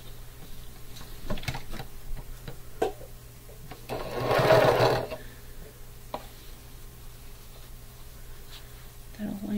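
A sewing machine stitches pieces of a quilt block together in one loud, steady burst lasting about a second, with quieter handling clicks and taps before and after.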